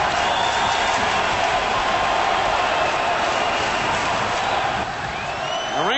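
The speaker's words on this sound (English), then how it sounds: "The Ranger crowd enjoying it here." A New York Rangers home crowd at an NHL hockey game against Toronto roars steadily, a broad, sustained arena cheer with no clear breaks.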